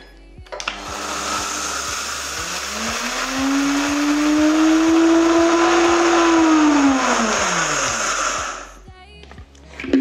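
A countertop blender grinds a cup of flaxseed into powder, its motor rising to a steady loud whir that holds for several seconds and then winds down, with a few clicks at the start and end.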